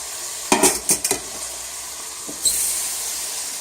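Bacon browning in a pan, a soft steady sizzle under a few sharp clinks and scrapes of a utensil against the cookware, with one more clink near the end.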